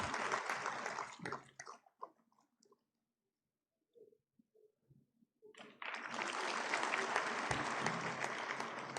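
Audience applause at a University of Kashmir convocation ceremony, a dense burst of clapping that tapers off, then a near-silent gap with faint scattered claps, then loud sustained clapping.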